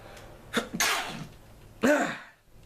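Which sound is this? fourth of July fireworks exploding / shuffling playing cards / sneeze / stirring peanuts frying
sneeze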